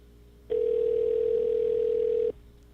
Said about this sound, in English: That's the most decrepit voicemail system I've ever heard.